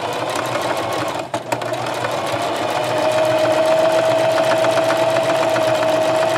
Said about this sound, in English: And I'm going to just do a little close edge stitch.